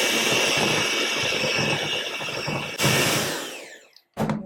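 Biscuit icing being mixed in a narrow container, a loud continuous whirring mixer drone that cuts off near the end, then a short burst of renewed mixing.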